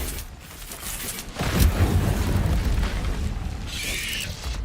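The Incendio fire spell in Hogwarts Legacy gameplay gives a deep whooshing boom that swells and roars steadily for a few seconds amid other game effects.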